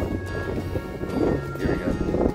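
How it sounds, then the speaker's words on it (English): Wind blowing at an old military battery, a steady rumbling buffet against the microphone with gusty swells and no clear talk. "As you can imagine, it's pretty breezy."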